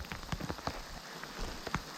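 Hail pattering down through a forest of trees beside a creek on a hike to Hope Lake, a steady close patter of scattered ice hits with no talking.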